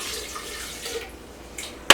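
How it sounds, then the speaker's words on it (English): A cup of water poured into a NutriBullet RX blender cup, a short close splashing stream that fades, ending in a sharp knock or clunk. "A cup of water goes in there"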